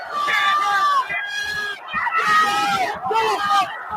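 Crowd at Lambeau Field during a Packers home game against the Bears, a loud sustained roar with cheers and screams swelling in waves, mixed with nearby shouting voices.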